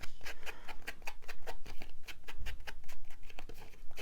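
Scissors cut through card in a rapid regular series of crisp snips, close and fairly quiet, with no talking.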